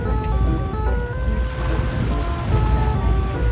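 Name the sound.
rubber boat tour departing on water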